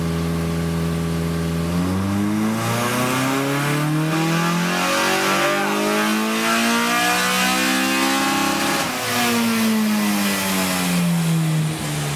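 A Honda Civic fitted with a swapped 195-horsepower engine revs up hard, climbs to a sustained high pitch, drops back, and then rises again, loud and close with no talking.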